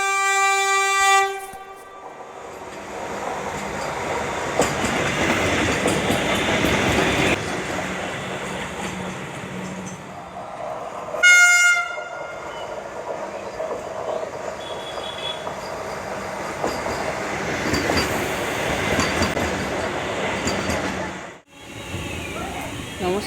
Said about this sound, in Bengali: আমার সামনে দিয়ে হুস হুস করে বেরিয়ে গেল বন্দে ভারত